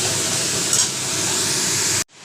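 Capsicum, carrot, beans and cabbage being stirred in a pan give a steady, loud sizzling hiss that runs without a break and then cuts off abruptly near the end.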